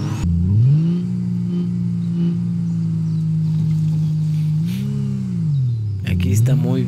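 Steady droning motorcycle engine in a video game, holding a constant pitch with a couple of rising revs near the end, loud and continuous with brief talk over it.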